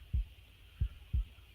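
Three deep, thumping heartbeat pulses from a sound effect land loud and close in an uneven rhythm, with no talking.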